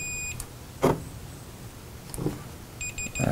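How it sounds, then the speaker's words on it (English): Electronic beeping from a Journey arcade monitor under repair: short high tonal beeps in quick bursts at the start and end, with a few soft clicks and thumps from handling between them. "It's beeping over here, too."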